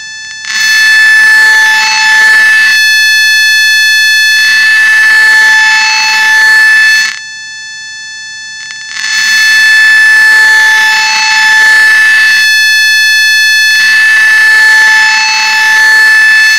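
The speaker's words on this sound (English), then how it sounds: "Let's have a listen to what the PMW signal sounds like." An Arduino PWM signal played through a small speaker makes a loud, harsh buzzing tone rich in overtones, coming in repeated bursts of about two seconds each with short silent gaps between them.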